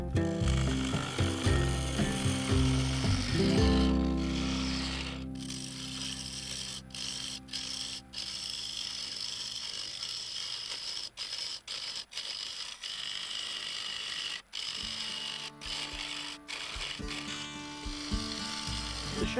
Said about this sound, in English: This was mostly being cut into the oak, so the bowl gouge did most of the work.